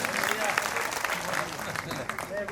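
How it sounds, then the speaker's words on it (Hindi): Audience clapping at a Hindi poetry gathering (kavi sammelan) in Amgaon, a dense steady wash of applause throughout with voices mixed underneath. "दोनों हाथ ऊपर उठाकर तालियां बजाकर अनुमति दे दीजिए"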